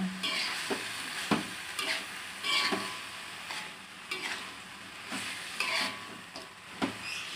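Oseng teri with tempe and pete being stirred in a pan, with steady frying sizzle and repeated scraping strokes of a spatula at a regular rhythm, close and moderately loud, no talking.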